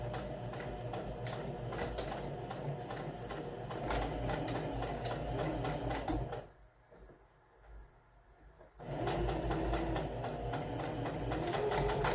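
A sewing machine stitches a folded-over section of a single fabric pillow panel, running in a steady, close, dense whir that pauses briefly for about two seconds midway before resuming at full loudness; no one speaks.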